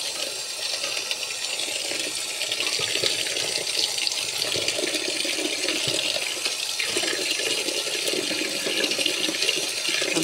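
Water runs steadily from a tap, a bright continuous splashing hiss at close range with no talking.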